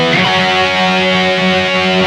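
Distorted electric guitar, played through a BOSS eBand JS practice amp with Mars Super Distortion pickups: a sustained, saturated chord rings loud and alone, with no talk.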